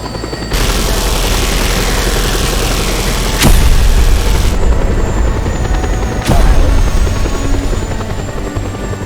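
An Air Force helicopter arrives in the video game Just Cause 2, its loud steady rotor thrum and engine roar dominating, broken by a couple of sharp booms or blasts.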